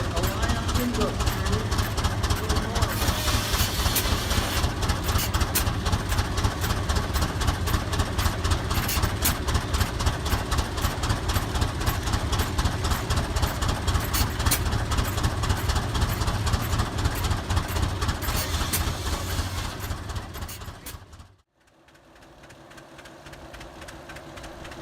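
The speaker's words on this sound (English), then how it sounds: "a Rumely Oil Pool Z engine was showcased running on the new Prony brake" A vintage Rumely OilPull Z engine runs on a Prony brake at a Forest City, Iowa antique engine show, thumping steadily and loudly in a fast, even rhythm for about twenty seconds before cutting off abruptly, leaving a quieter background hum.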